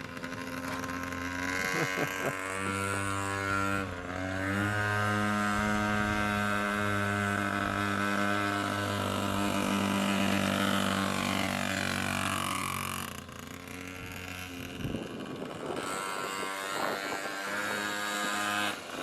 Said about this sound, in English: as you guys can hear, it still does not run great